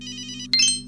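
Street telephone rings in the Team GB Mindscape game, a warbling electronic ring over a steady low hum, followed by a brighter chirping burst.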